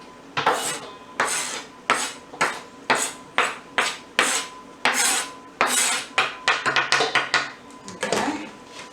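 Chopped vegetables are scraped and tipped into a mixing bowl, with a rapid series of sharp clinks and scrapes of a utensil against the bowl, close and rhythmic, growing quicker near the end.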